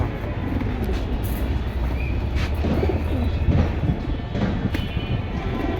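A male and female pigeon pair coos at a market, soft throaty calls rising under a steady hum of crowd and rail-like background noise throughout.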